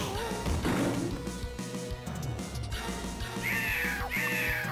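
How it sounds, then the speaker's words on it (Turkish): Cats yowl and meow in the arcade beat-'em-up Vendetta, several shrill cries over busy game music and crashing hit effects, with no talking. "Evet, kediler geldi."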